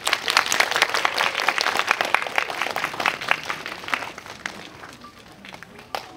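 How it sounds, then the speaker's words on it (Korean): An audience claps in a sustained round of applause that slowly thins out toward the end. "큰 박수로 맞이해주세요."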